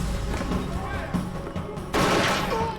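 Gunfire from a Prison Break TV episode, a burst of shots and a loud crashing volley late on, heard over dramatic scene audio with voices.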